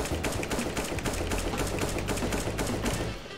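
Rapid bursts of automatic gunfire from a weapon in the video game CS:GO, loud and close, with tightly spaced shots firing in a continuous stream that stops abruptly near the end.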